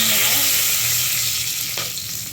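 Cinnamon sticks, cloves and a bay leaf frying in hot oil give a loud, continuous close-up sizzle that slowly eases, with a brief clink of a utensil near the end.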